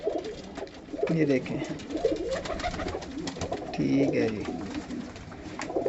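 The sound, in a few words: pigeons cooing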